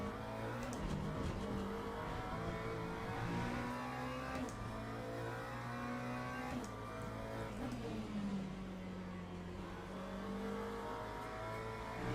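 Hypercar race engines in Le Mans Ultimate drone loudly and continuously, pitch sliding as several cars pass close by in succession, with a faint tire squeal under the engine roar.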